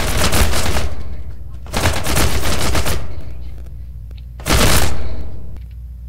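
An auto pistol in People Playground fires in three loud, rapid bursts, each a dense rattle of shots with brief pauses between them.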